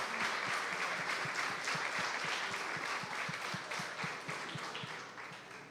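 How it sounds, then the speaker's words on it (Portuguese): Church congregation applauding during a baptism celebration service, many hands clapping together in a steady, roughly rhythmic beat that gradually fades toward the end. "Você pode aplaudir ao Senhor?"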